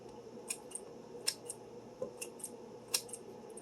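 A knife cutting down bricks of cheese while making a Dollar Tree breakfast, with several short, sharp slicing clicks spaced irregularly over a quiet kitchen background.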